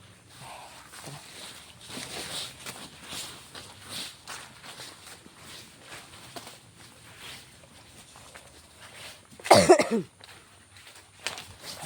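A person with a lingering cough coughs once sharply and loudly partway through, with a fainter cough near the end, against quiet background shuffling and footsteps.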